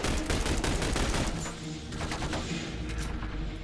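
Dense automatic gunfire rattles through The Bureau: XCOM Declassified video game, a loud, continuous fusillade of rapid shots that eases slightly midway before continuing.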